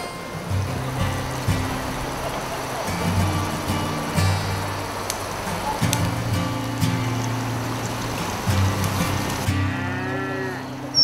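Cattle rest alongside horses at a stopping place on a muleteers' drive in El Carmen, Chile, lowing with several deep, drawn-out moos spread through the stretch over steady outdoor background noise.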